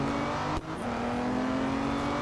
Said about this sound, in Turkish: bugünkü arabamız sapsarı bir Aston Martin